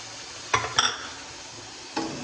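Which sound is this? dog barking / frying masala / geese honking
frying masala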